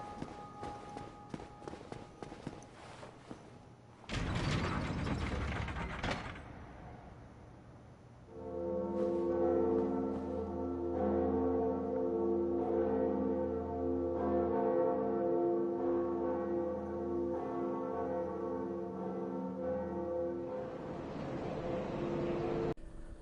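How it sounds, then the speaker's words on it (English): A church bell in the Dark Souls video game sets its mechanism clanking, then rings with a loud, sustained, resonant tone that swells and lingers for many seconds, preceded by footsteps and a heavy rumble. "it's time to ring the bell"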